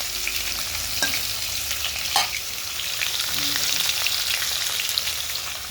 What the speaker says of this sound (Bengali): তিনটে পিঠে করেই ভাজি ভেজে নিই সব মাছগুলো